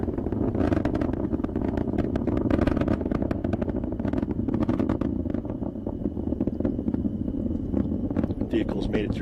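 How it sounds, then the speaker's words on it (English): SpaceX Falcon 9 rocket engines roar during launch around max Q, a steady, dense rumble with crackling bursts, heard beneath continuous commentary. "Falcon 9 engines pulling back just a little bit as that max Q milestone passes."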